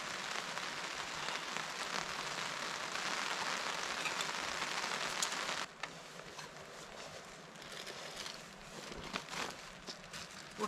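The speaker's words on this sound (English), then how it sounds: "The rain's coming." Steady rain patters densely on nearby surfaces at a kayak campsite in the Delaware Water Gap National Recreation Area, loud and continuous, easing slightly partway through with occasional heavier drops; no talking.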